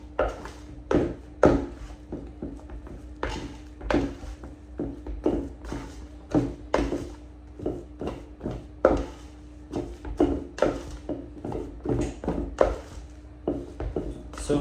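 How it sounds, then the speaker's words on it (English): A spatula scrapes and slaps meringue through thick almond paste in a bowl while making French macarons, giving irregular soft thuds and scraping strokes repeating steadily, close and fairly quiet. "So we take a bit of meringue and mix it through this almond paste."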